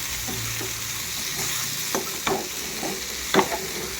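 Potato and pumpkin fry in a pan for Assamese duck curry, a constant near sizzle broken by several light scrapes and clinks as the pieces are stirred, with no talking.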